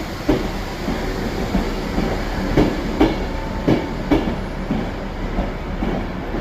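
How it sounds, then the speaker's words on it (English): Passenger train 390129 City of Stoke on Trent, running from London Euston to Edinburgh, passes at Carlisle with a steady rolling rumble punctuated by regular clickety-clack wheel beats over rail joints, alone without voices. "City of Stoke on Trent, with 9S44, 9 Sierra 44, from London Euston to Edinburgh"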